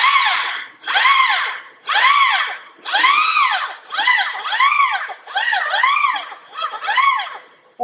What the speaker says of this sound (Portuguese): com a furadeira ligada, eu vou começar a dar alguns pulsos na furadeira